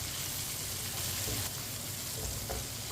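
Besan-coated bhindi (okra) sizzling and frying steadily in a pan as it is stirred, a dense continuous crackle close up with faint scraping, and no talking.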